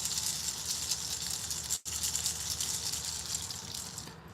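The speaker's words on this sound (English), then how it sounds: "There's the waterfalls." Steady broadband rush of gushing water, like a small waterfall, running continuously and fairly close with one brief dropout midway, no talking.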